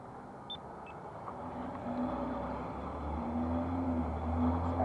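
A car rolls slowly past at night on a street in Orange County, California, a low engine rumble swelling gradually louder over a few seconds, with a couple of faint high chirps early on.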